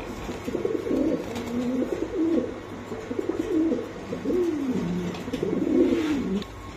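Pigeons coo loudly and close by, several rolling, throaty calls repeating in waves over a few seconds, with no talking.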